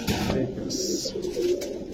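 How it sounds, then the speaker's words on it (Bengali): A pair of Pakistani teddy pigeons cooing at a pigeon market, soft throaty coos rolling close by over a busy, noisy background. "হ্যাঁ ভাই, দর্শক কবুতরটা দেখেন, সাকি টেডি।"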